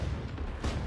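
A fragmentation grenade detonates in the WWII-era ArmA 3 Spearhead 1944 mod, a deep, rumbling boom that fills the whole second, with a second surge of blast noise partway through.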